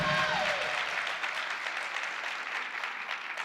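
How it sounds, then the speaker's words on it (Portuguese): Audience applause at a talk event in São Paulo, a fairly quiet, even patter of many hands that starts right away and holds steady after a brief voice at the start. "Uma salva de palmas por causa disso."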